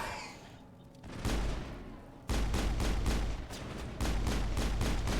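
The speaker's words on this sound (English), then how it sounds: "I am so accurate with this pistol." Pistol fire in the Mass Effect video game: after a quieter lead-in, loud bursts of rapid, closely spaced shots start abruptly and carry on in clusters, heavy and near, with no talking.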